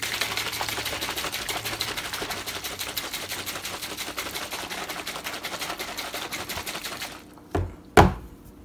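Gamma Labs G-Fuel powder shaken hard inside a screw-top shaker cup, a fast, steady rattling churn that runs for about seven seconds, then stops with a couple of sharp knocks at the end.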